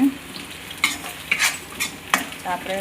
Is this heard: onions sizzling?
yes